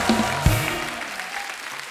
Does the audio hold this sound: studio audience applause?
yes